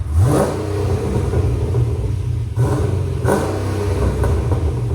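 A cammed Chevy Caprice with a 6.0L V8 and long tube headers revs hard nearby, its loud, choppy exhaust rising and falling through several throttle blips over a lumpy idle.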